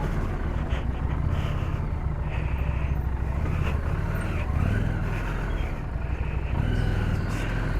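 A Harley-Davidson Street 750 motorcycle rumbles steadily while riding off-road, its low engine drone constant and close with small shifts in pitch as the throttle changes, over rough wind noise.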